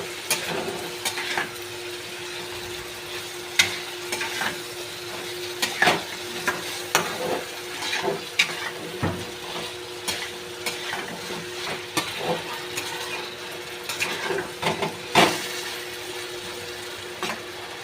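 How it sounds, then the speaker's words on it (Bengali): Ginger garlic paste, green chilli and coriander leaves sizzle steadily in hot oil, with repeated sharp scrapes and clinks of a spatula stirring against the pan throughout. "এবার আমি আদা রসুনের পেস্ট, কাঁচা লঙ্কা, ধনেপাতাটা দিয়ে দেবো। দিয়ে ভালো করে হালকা একটু কষে নেব।"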